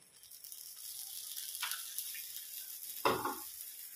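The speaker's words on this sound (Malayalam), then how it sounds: "അമ്മയ്ക്ക് നമ്മൾ കുറച്ച് വെളിച്ചെണ്ണയിട്ട് കൊടുക്കാം" Coconut oil sizzles steadily on a hot dosa pan, a faint continuous hiss broken by one louder crackle near the end, with no talking.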